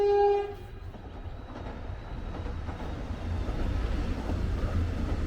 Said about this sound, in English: it looks like we've got another train coming in